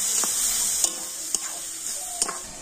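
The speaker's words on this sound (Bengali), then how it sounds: "আর এখন আমি কন্টিনিউ নাড়াচাড়া করে একটা সুন্দর পুর তৈরি করে নেব" A pitha filling is stirred in a pan with a little water, soft sizzling under several distinct spoon scrapes and taps against the pan, close and moderately quiet, with no voices.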